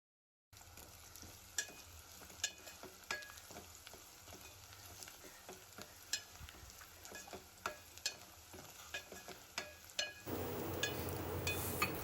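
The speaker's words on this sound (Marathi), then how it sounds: "दोन बारीक चिरलेले कांदे आहेत ते या तेलामध्ये टाकून घेऊया आणि थोडा कांदा लालसर होईपर्यंत परतून घेऊया" Chopped onions sautéing in hot oil give a steady crackling sizzle, broken by repeated sharp clinks and scrapes of a spoon stirring the pan. Near the end the sizzle swells into a louder, denser hiss.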